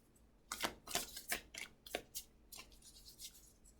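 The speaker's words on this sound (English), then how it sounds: "two more shuffles and see what happens here" Tarot cards being shuffled by hand produce several quick, soft riffling bursts in an uneven rhythm, close and quiet, with no talking.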